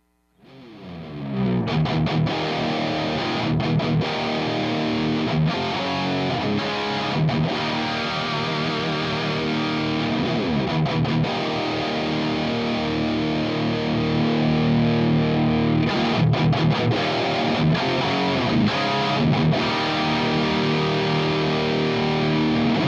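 An electric guitar plays through a Diezel VH Micro amp with every control set at noon, a thick, continuous distorted tone of chugging riffs and sustained chords, loud and close with no talking.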